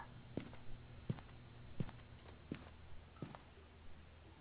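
Ghost footsteps in the Phasmophobia video game: about six soft, evenly spaced thuds stepping along over a low steady hum, fairly faint and with no talk.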